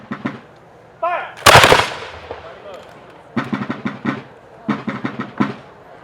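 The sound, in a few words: gun volley fired on command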